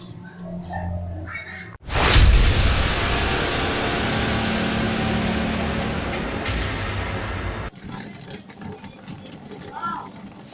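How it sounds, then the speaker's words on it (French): Water boils hard in a covered saucepan on a stove with glass jars and bottles fully immersed for sterilising: a dense, steady roiling hiss that starts abruptly, holds loud for several seconds, then cuts back to a quieter background. "Ça bout."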